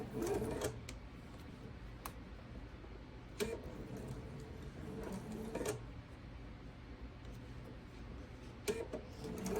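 A sewing machine stitches quilt pieces with a quiet, steady needle rhythm, broken by a few sharp clicks and taps as fabric is fed through.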